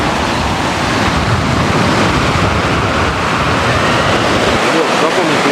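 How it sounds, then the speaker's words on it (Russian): Strong seaside wind roars continuously against the microphone at Cape Tarkhankut in Crimea, a loud, unbroken rushing blast with no pauses. "сейчас дует сильный ветер"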